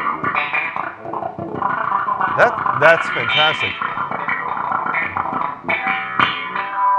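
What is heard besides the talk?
slap bass played through an effects unit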